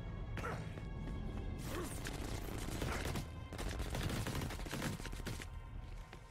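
Dense bursts of rapid gunfire and crashing impacts from the video game Crackdown 3 fill the whole stretch, loud and continuous, with sharp volleys layered over a busy game-like background.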